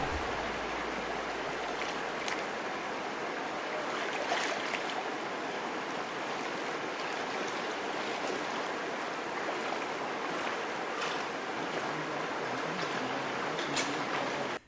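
A flooded creek rushes in a steady, dense roar of churning water, loud and constant with no pauses, close by near an off-grid cabin in April.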